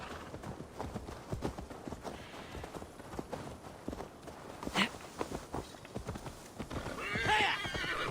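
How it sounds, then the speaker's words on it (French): A horse called by the player in the Assassin's Creed Valhalla video game, heard as steady clip-clop hoofbeats approaching at a gallop, with whinnies and snorts, loudest near the end. "Ah, j'ai appelé le cheval."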